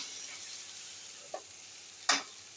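Sliced raw plantain frying in hot oil gives a steady close sizzle, broken by two short scraping stirs, the second louder.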